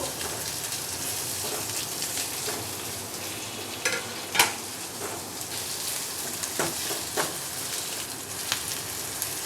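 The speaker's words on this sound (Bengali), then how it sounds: "এবার এগুলোকে খুব ভালো করে মিশিয়ে নিয়ে ভেজে নেব।" Chopped garlic, onion and chillies sizzle in a pan as the base for fried jute leaves: a continuous crackling hiss broken by intermittent scraping clicks and one louder knock from stirring, with no voices.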